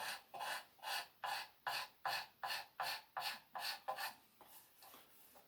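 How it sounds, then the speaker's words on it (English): A knife blade scrapes along the wooden part of a handmade chair in about a dozen steady, rhythmic rasping strokes, close and alone, fading softer at the end. "a good knife makes a good scraper"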